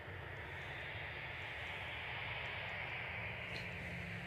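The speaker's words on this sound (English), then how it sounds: "Finnair to Helsinki is lining up." Finnair Airbus A319 lining up on the runway at Manchester Airport, a faint, steady distant jet engine rumble and hiss holding level throughout with no voices.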